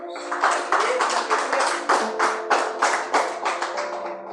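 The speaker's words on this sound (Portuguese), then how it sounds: "Palmas para Jesus" A church congregation claps for Jesus in a steady rhythmic beat, loud and close, with singing or voices carrying over the clapping.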